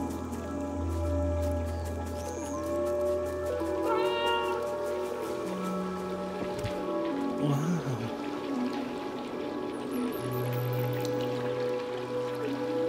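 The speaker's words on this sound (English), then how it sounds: "Fourth kitten, or kitty cat, dude." A kitten meows repeatedly in the video game Stray, several short separate cries over a steady game ambience with soft drips and tones, no talking.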